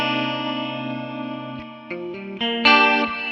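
An 80s-style chorus guitar tone from the STL Tones AmpHub plugin, with sustained shimmering chords and delay, shifting through several chord changes and growing louder near the end, with no talking.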